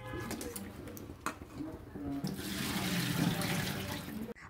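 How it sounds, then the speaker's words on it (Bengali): Whole mushrooms are washed under running tap water, a steady close splash and trickle with handling noises and a faint bird coo in the background. "মাশরুমগুলোকে দেখো আমি গোটা অবস্থাতেই খুব ভালো করে ধুয়ে নিলাম"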